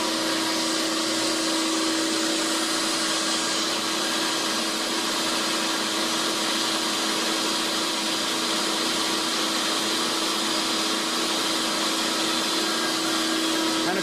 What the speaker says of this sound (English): All right, so we'll go ahead and start the machine.